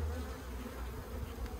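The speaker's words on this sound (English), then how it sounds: "Plenty of bees in the air outside." Dense, steady buzzing of many bees at an Australian beehive outdoors, a close continuous drone with no talk over it.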